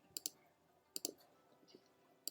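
Computer mouse clicking while selecting areas in a Photopea image editor, quiet paired clicks spread irregularly across a near-silent background with faint handling noise.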